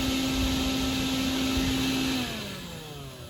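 A very large vacuum used as a bee rescue tool runs with a loud steady whine, then its pitch drops and the motor winds down near the end.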